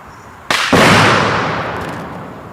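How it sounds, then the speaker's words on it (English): A muzzleloader loaded with smokeless powder fires with a hang fire: a brief sharp crack followed a moment later by a louder, sustained blast that rings out and slowly fades outdoors. "It was like a hang fire."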